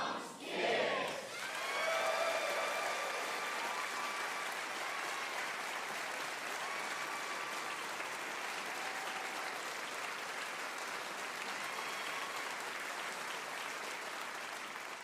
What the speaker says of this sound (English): I want you to say WoodSongs Kids and then applaud.